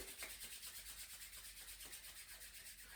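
Quiet, steady rubbing with a soft, rhythmic swishing like hands brushing against each other, repeating evenly throughout.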